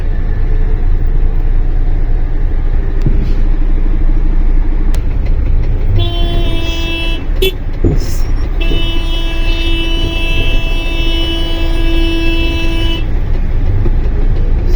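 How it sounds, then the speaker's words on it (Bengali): Cars and trucks idle in a traffic jam at a red signal on a road in Saudi Arabia, with a steady traffic rumble and a long car horn honking loudly in the middle, plus a few shorter toots. "দেখছেন কত বড় সিগন্যালের জাম"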